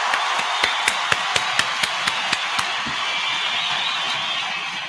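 A live podcast audience applauds a sponsor, a steady wash of clapping with sharp, evenly spaced claps standing out for the first few seconds before the clapping settles into a continuous hiss.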